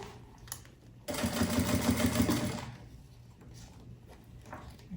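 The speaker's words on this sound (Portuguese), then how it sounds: "agora eu passo a costura já tudo de uma vez" A sewing machine stitches a fabric toiletry bag from a necessaire kit in one quick burst of about a second and a half, followed by quiet handling of the fabric.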